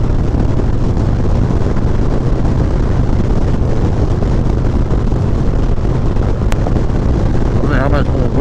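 Heavy wind roar buffets the microphone while a Harley motorcycle is ridden on an open road without a fairing. The broadband rush is constant and loud, with the engine's rumble buried beneath it.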